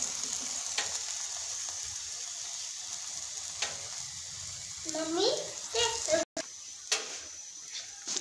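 A spinach lachha paratha sizzles on a hot pan, steady frying hiss with brief scraping clicks and a voice speaking partway through.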